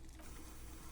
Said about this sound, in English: That's the sound of a Kvalson crane.